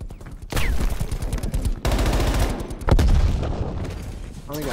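Stoner machine gun in Call of Duty Cold War beta, loud sustained bursts of rapid automatic fire in two long strings with a brief gap between, some voice underneath.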